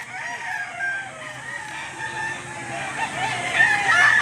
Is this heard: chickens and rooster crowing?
yes